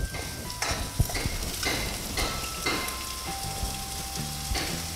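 Small shallots with salt sizzle and fry in hot oil in a home kitchen pan, a continuous crackling hiss broken by several soft scraping stirs at a close distance.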